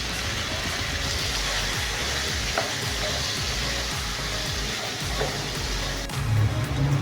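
Dense, continuous sizzling of chicken jalfrezi gravy being stir-fried in hot oil in restaurant style, with a crackling hiss throughout and a few faint stirring knocks.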